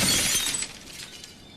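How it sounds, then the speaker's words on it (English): A glass coffee table shatters after falling from a 20-story building, a loud, bright crash that bursts with breaking glass and then fades into scattered tinkling shards. "Now a stylish glass coffee table."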